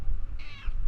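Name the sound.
cat meowing in the video game Mass Effect 3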